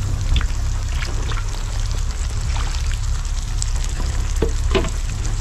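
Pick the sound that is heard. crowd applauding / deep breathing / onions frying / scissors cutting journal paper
onions frying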